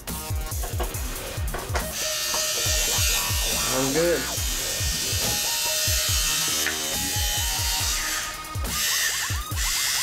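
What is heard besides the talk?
Andis AG hair clipper running after refurbishment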